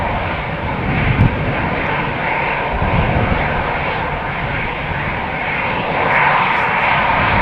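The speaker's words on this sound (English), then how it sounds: "there is an Airbus from EasyJet" An EasyJet Airbus jet at Amsterdam Schiphol Airport, on the runway 36L departure side, makes a loud, steady engine roar that fills the whole stretch with no voices.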